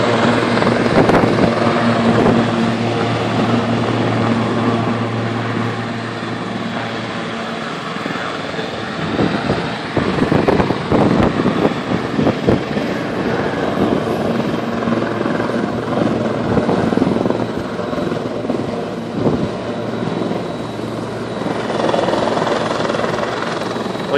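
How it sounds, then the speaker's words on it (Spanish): Helicopter at East Hampton Airport, a loud continuous rotor thrum and turbine whine up close that holds steady for the whole stretch, with rising and falling blade chop in the middle. "Llegan muchos jets y muchos helicópteros de la ciudad y otros lados."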